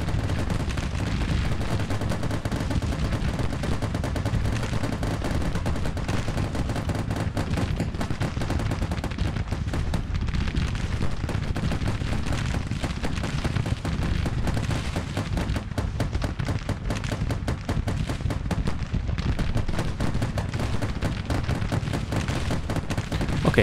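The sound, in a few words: machine gun fire in the video game Grand Tactician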